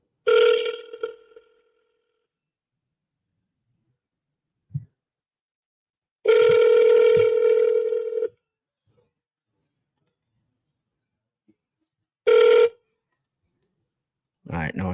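An outgoing phone call ringing out unanswered, with a loud ringback tone pulsing in long bursts separated by silence, plus a brief faint click between rings and a short tone cut off at the end.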